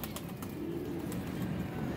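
Low, soft cooing of a Ferozpuri pigeon hums close by for a couple of seconds, with faint clicks and background noise.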